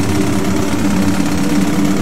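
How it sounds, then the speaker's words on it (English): Plane engines in the Roblox game Flightline, a steady droning hum with a low rumble, loud and unbroken. "I'm gonna turn off my engines"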